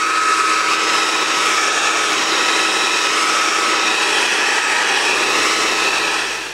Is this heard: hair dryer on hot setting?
yes